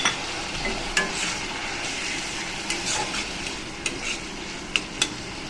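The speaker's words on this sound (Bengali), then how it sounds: "এখন আমি কিছুক্ষণ এটাকে ভাজা ভাজা করব মাঝে মাঝে একটু জল ছেটাবো যাতে পেঁয়াজটা একটু নরম হয়" Onions fry in a pan for a poppy-seed dish, with an even close sizzling hiss throughout and a few sharp clinks as they are stirred, alone without voices.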